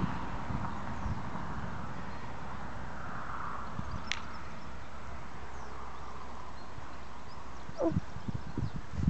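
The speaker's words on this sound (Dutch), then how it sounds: "Het zijn paarden." Faint, distant hooves of a black Polish-bred Arabian horse clop on the ground, growing into a few clearer thuds near the end over a quiet outdoor background.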